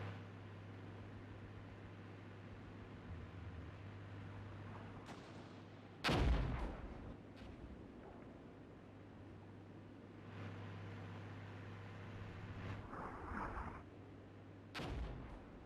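Tank gunfire in the wargame Armored Brigade, faint and distant: one sharp cannon blast stands out over a steady low rumble, followed by softer scattered reports and shots.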